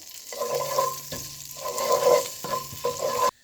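Steady sizzling and frying of garlic ginger paste in a hot pan, with a spoon stirring and scraping through it in several bursts before stopping abruptly.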